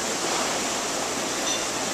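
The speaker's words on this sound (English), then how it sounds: "And this is all water that's being pumped from where they are." Seawater pumped into an oyster wet storage tank at an oyster farm makes a steady, loud rushing and splashing that runs without break, with no voices.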